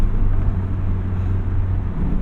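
Engine of a 1999 Dinan BMW M Roadster: a steady, loud low drone with a deep even hum, heard alone without talk.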